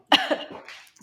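A single sharp cough from a winded woman during a Pilates workout, close to the microphone and tailing off into a breathy exhale.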